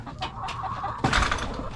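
Backyard hens cluck and murmur close by, with short repeated calls and one louder burst near the end, no talking.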